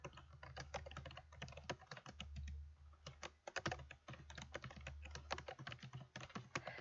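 Rapid typing on a computer keyboard, close and clear, with bursts of clicking keys and short pauses between them, faint background hum.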